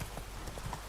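Hooves of Roach, the horse in The Witcher 3, clip-clopping in a short steady run of muffled footfalls, fairly soft, with game ambience underneath and no speech.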